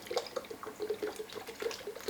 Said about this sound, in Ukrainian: Беремо вершки і заливаємо сюди.